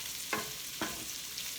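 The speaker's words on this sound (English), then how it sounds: "let's focus first on sauteing the ingredients for our" Ingredients for spaghetti sauce sautéing in a pan, a soft continuous sizzle broken by two brief scraping stirs, close and quiet, with no voices.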